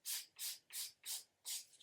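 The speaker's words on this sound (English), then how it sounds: "I'm just filing my sidewall" A nail file rasps along the sidewall of a fingernail in five short, close strokes with a brief pause before the last, soft and dry with no talking.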